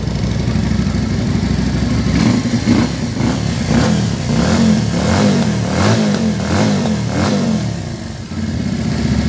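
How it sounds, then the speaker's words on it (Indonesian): An SM V16 250cc V-engine motorcycle, a moge with its stock exhaust, revs in a steady series of throttle blips, loud and close, the engine note rising and falling rhythmically without any talk. "Tapi suaranya kalau nggak ganti knalpot menurut gua kurang gahar ya John."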